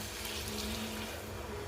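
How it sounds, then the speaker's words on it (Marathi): Hot water is poured into roasted masala for a peas and potato curry, making a soft, continuous rushing, bubbling pour that stays faint and even, with no voices. "गरम पाणी घातलंय मी याच्यामध्ये"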